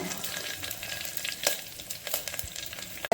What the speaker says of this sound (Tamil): கடுகும் கருவேப்பிலையும் கொஞ்சம் வெங்காயம் போட்டு அப்புறம் பெருங்காயத்தூள் கொஞ்சம் போட்டுறேங்க